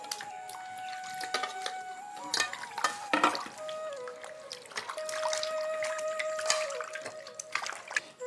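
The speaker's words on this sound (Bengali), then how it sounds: "এখন আমি এরকম গোটা অবস্থাতেই লাউয়ের খোসাগুলোকে একবার ধুয়ে নেব" Thick bottle gourd peels are rinsed by hand in water, producing close splashing, trickling and wet rubbing with a few sharp clinks of handling, and no voices.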